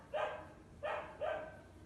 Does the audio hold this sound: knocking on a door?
no